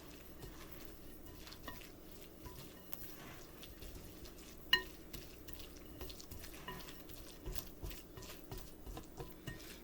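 An egg, milk, cheese and cracker mixture is stirred in a bowl, with quiet, soft scraping and wet sloshing, irregular and close, plus one sharper clink midway.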